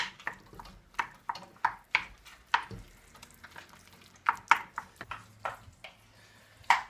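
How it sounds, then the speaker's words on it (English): Spoon or spatula stirring BBQ chilli burrito mix in a pan, with a run of scraping, clacking strokes and a soft sizzle underneath, fairly close and steady. "And mix it all in."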